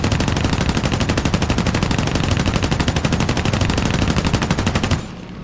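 Rapid sustained machine-gun fire from the guns of a Ki-43-II fighter in the War Thunder video game, a loud, dense, even burst lasting about five seconds before cutting off abruptly.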